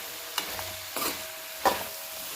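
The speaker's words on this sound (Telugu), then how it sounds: "ఒకసారి మొత్తం కలుపుకుందాము." Bottle gourd curry being stirred in a pan on the stove, a few separate scraping strokes against the metal over a faint sizzle, fairly close and quiet with no voices.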